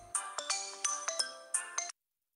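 A mobile phone ringtone plays nearby in a home kitchen, a bright electronic melody of quick repeated tones lasting about two seconds before cutting off into silence.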